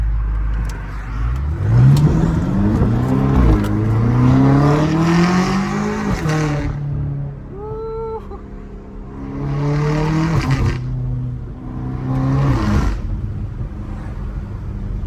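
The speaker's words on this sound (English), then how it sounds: "V8, man, I love that V8 foreign. Sounds freaking amazing." A BMW M5 Competition's V8 revs repeatedly, each climb rising and falling in loud surges close by, with crackling pops between pulls.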